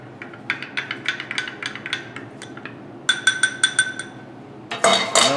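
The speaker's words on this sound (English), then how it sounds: "we're going to mix that around with a dedicated stir stick" A stir stick tapping and clinking against a cup while paint is mixed, a close series of quick light knocks in irregular rhythm, then a denser rattling flurry at the end.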